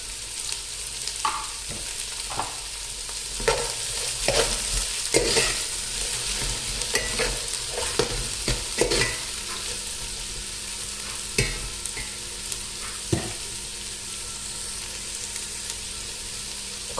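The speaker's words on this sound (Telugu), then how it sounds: "బ్రౌన్ కలర్ వచ్చే వరకు ఉల్లిపాయలు ఫ్రై అవ్వాలి" Sliced onions with a pinch of salt fry in oil for mushroom pulao, a steady close sizzle broken by frequent scraping, clacking strokes of a spoon stirring the pan throughout, with no voices.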